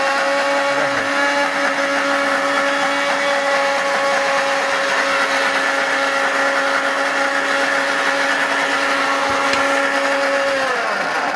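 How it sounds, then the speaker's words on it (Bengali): A powerful Indian-made electric blender runs loud and steady for about eleven seconds with a constant motor whine, then winds down sharply at the very end. No one speaks. "এটা হচ্ছে মেড ইন ইন্ডিয়ানা ব্লেন্ডার"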